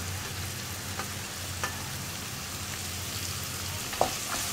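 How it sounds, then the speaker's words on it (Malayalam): Onion, carrot and green chilli sizzle steadily in a pan as a vegetable bonda filling is stirred, with a continuous frying hiss and a few soft scrapes of the spoon, close up and with no talking. "ഇനി ക്യാരറ്റ് ഒന്ന് കുക്കായി വരുന്നത് വരെ ഒന്ന് ഇളക്കി കൊടുക്കുക."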